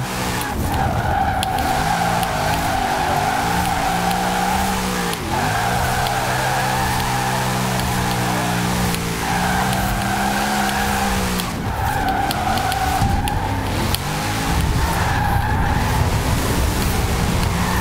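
A Formula Drift car slides through a drift in Forza Horizon 4, its tires squealing in a long, sustained howl over a loud, revving engine whose pitch rises and dips with brief lifts between sweeps.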